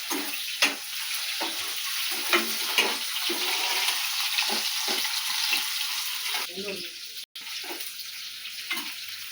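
Onions frying in a pan for chicken curry, with curry leaves already added: a loud, steady close-up sizzle with faint stirring scrapes and a brief dip in the sound near the end.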